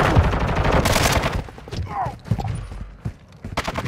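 Rapid bursts of gunfire in Call of Duty: Modern Warfare II, dense and loud at first, then thinning to scattered shots under voices and radio chatter.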